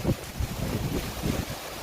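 Strong cyclone wind gusts and rushes in a broad, loud roar with steady rain noise underneath, buffeting close to the microphone.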